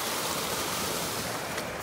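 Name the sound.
flood water flowing around a retaining wall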